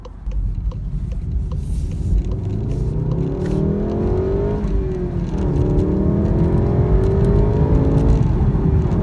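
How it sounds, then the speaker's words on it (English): A Volkswagen Golf R engine revs steadily upward through the gears while accelerating to 60 mph, pitch climbing and dropping at each shift, loud and continuous from inside the vehicle. "So we're going to take the car up to 60 miles an hour."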